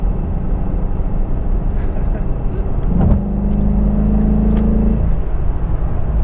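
A 2016 Ford Mustang GT exhaust drones steadily from inside the moving car, a deep low rumble that swells briefly mid-run, with a speaking voice heard over it.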